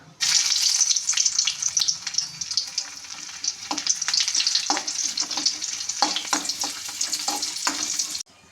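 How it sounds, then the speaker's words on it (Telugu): Garlic cloves fry in hot oil for onion and egg dosa, a loud steady sizzle filling the whole stretch with scattered sharp crackles and pops, close up and alone without any voices. "ఆయిల్ ఇటు ఎక్కిందండి ముందుగా ఎల్లుల్లిపాయలు ఎక్కలేస్తున్నాను"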